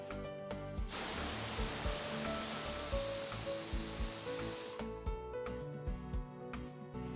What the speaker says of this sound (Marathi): कुकर बंद करून मध्यम गॅसवर तीन शिट्या काढून घ्यायच्या